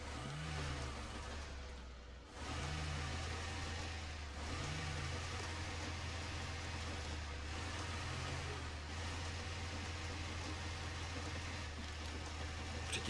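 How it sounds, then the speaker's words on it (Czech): A truck engine in the MudRunner off-road game labors steadily, its low drone dipping and sputtering in a few uneven surges as it chokes. "To jako způsobuje ten motor, že se to dusí."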